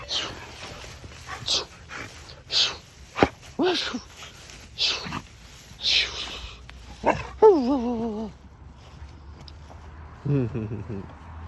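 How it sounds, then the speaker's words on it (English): A dog barks and yips in short bursts, with whimpering whines between, close by, while a person talks intermittently over the sounds. "now he's barking at me"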